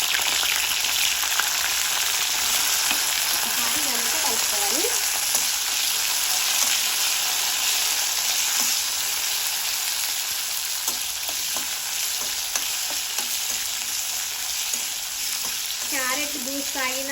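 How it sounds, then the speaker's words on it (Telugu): Cumin seeds and torn green chillies frying in oil, a loud continuous close-up sizzle and crackle lasting throughout, with occasional stirring scrapes and no talking. "ఇప్పుడు దీంట్లో తుంపి పెట్టుకున్న పచ్చిమిరపకాయలు కూడా వేసుకోవాలి"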